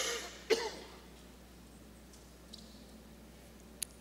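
A single short cough or throat clear sounds near the start, followed by quiet room tone with a couple of faint clicks.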